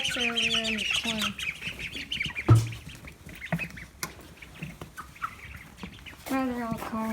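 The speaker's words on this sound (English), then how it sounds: "The ducks are over there in the corner." Ducks on a homestead farm quack in short nasal bursts near the start and again near the end, with scattered knocks and rustling farmyard noise in between.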